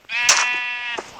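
A single sheep bleat from the Minecraft video game: one clear, wavering cry of about a second, close and alone with no talk.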